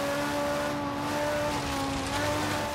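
A Ferrari 458 engine in the video game Forza Horizon 3 drones steadily at high revs, a continuous loud hum with no voices.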